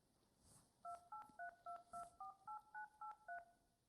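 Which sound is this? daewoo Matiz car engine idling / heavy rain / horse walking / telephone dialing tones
telephone dialing tones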